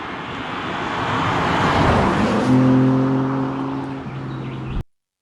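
A BMW M4 Competition coupe accelerates out of a hairpin with a rising, roaring engine note that swells close and loud, then settles into steady tones before cutting off abruptly.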